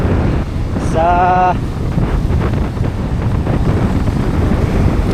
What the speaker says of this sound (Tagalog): Malaki kasing alon mga amigo. Saka yung dagat ay malakas. Mahangin.